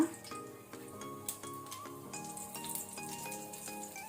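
Cumin seeds sizzle in hot oil in a pan, a steady crackling fry with small ticking pops, fairly quiet and close, heard alone.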